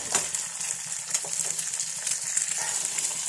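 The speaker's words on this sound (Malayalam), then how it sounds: "ഞാനിങ്ങനെ മാത്രം മുട്ട പൊരിക്കും" An egg fries in a hot pan, producing a continuous dense crackling sizzle with a few light scraping touches, steady and close throughout.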